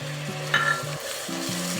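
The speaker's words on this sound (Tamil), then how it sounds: "தக்காளி சேர்த்து நல்லா குழையிற அளவுக்கு வதக்கிக்கணும்." Ginger-garlic paste with four finely chopped tomatoes sautéing in a pan for a Tamil Nadu style prawn dum biryani, a loud close sizzle with a brief stirring scrape and no talking.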